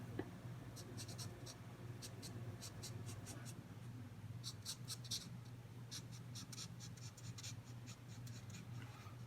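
A vermilion marker drawing across toothy paper makes close, steady scratchy strokes, with bursts of quick rapid scribbles repeating over a constant low background hum.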